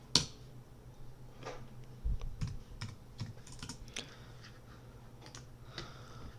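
Typing on a computer keyboard at a Windows command prompt, a run of sharp clicks and key taps at an uneven pace, fairly close and clear, with a louder cluster of strokes midway and no talking.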